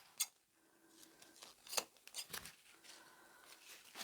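Scissors snipping through folded ribbon strips, a few sharp close cuts spaced irregularly over a quiet background, each a brief crisp snip, no voices.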